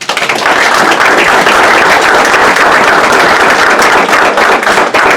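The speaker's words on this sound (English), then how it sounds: "can we applaud them?" Loud, dense audience applause at a Boeing grant check presentation to a veterans charity, steady close clapping filling the whole stretch without talk.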